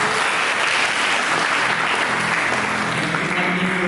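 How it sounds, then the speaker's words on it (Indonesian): Steady, loud applause from a church congregation during an Indonesian-language sermon, continuous clapping sustained evenly for several seconds without voices. "Mari berikan tepuk tangan."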